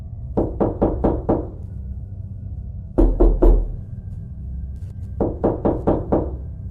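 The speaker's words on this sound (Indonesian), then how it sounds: "perlahan terdengar suara ketukan di pintu rumah" Knocking on a house door, in three distinct bursts of four or five sharp raps each, close and clear, with the middle burst heavier and booming; eerie horror-story setting, no voices.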